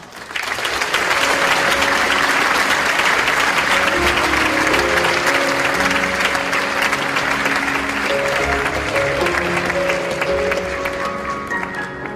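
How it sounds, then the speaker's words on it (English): Sustained, loud applause from a large audience at the IFAC 2008 closing ceremony, dense clapping rolling on for over ten seconds with soft background music tones underneath. "Ladies and gentlemen, please give the new President a big round of applause."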